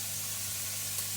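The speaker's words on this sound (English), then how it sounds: "we'll cut the potatoes in the wedges while this bacon's browning up" Bacon browning in a pan: a steady, close sizzle with a constant hiss and faint crackle, unbroken throughout.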